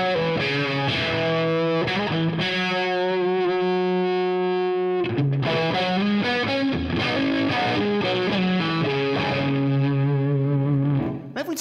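Electric guitar runs through a Seymour Duncan Fooz analog fuzz synthesizer with its envelope bandpass filter engaged, giving loud, sustained, buzzy fuzz notes and chords with sweeping filtered tone. The playing is continuous, up close and alone.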